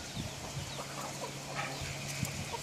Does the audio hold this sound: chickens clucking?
yes